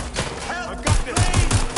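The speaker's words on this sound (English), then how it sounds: "I'm taking fire!" Gunfire erupts in the video game Watch Dogs: Legion, a rapid run of sharp close shots after a brief lull, with a voice speaking briefly near the start.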